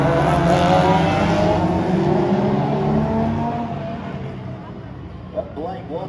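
Classic race cars at a street circuit event, among them a Ford Galaxie 500 with a 7-litre 427 engine, roaring past loudly and fading into the distance, with a commentator talking over the engines.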